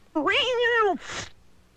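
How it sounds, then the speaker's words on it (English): A kitten gives one clear, rising-and-falling meow followed by a shorter breathy second call, close and isolated against near silence. "Kitten."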